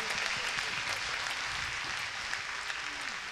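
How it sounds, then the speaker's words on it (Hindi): A crowd applauding for Jeetu bhai at a devotional jagran, dense steady clapping from many hands heard at a moderate distance and sustained throughout. "तो देखिए एक बार जोरदार ताली हमारे जीतू भाई के लिए।"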